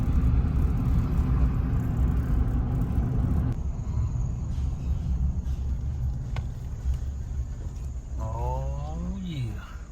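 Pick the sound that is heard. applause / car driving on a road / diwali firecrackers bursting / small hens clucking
car driving on a road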